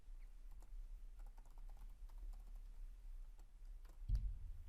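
Quiet computer keyboard typing while a password is entered, scattered soft key clicks across several seconds against a low steady hum, ending in a slightly louder burst of clicks.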